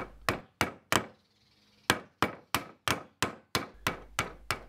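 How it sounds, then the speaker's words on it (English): A mallet drives a chisel into wood to chop out a trench for a pallet workbench leg trestle, giving sharp, evenly spaced knocks, three then a short pause, then a steady run of about eight more. "Chop out about half of the depth using your chisel and mallet."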